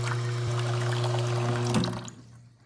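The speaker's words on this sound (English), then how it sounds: "Do this again to flush a bit of coffee out and clean the portafilter out." Espresso machine on a home espresso bar flushing water through the group head, a steady close hiss and splash over a low pump hum that cuts off near the end.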